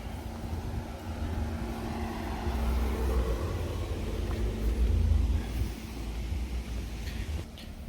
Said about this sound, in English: You got Blaze pulling up on the 5 Series